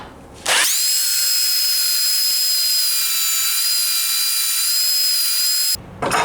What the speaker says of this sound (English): So I'm going to use the belt sander to sand down to the lines.